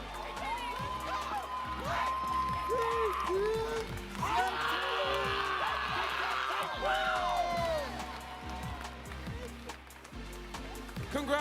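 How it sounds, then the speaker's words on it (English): A large crowd at a youth poetry slam national final cheers, whoops and applauds loudly and continuously for the champions, with voices shouting over the sustained clapping. "I want y'all to make sure y'all are clapping for every poet who got up on this stage"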